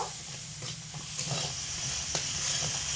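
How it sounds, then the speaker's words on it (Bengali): Potatoes sauté over medium heat with salt and red chili powder, giving a soft continuous sizzle with occasional stirring scrapes and clinks close by. "এগুলোকে দিয়ে মিডিয়াম আঁচে রেখে ভালো করে কষিয়ে নেব।"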